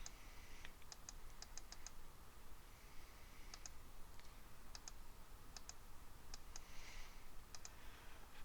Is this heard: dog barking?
no